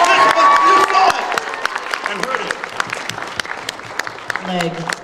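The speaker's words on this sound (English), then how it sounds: "Give her a round of applause, everybody." A panel audience bursts into loud applause that fades into scattered claps, with a few voices and a cheer rising briefly near the end.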